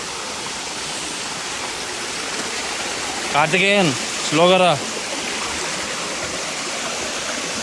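A fast-flowing stream at Araku, full of water, rushes close by in a steady broadband roar that never lets up, while a voice calls out twice above it.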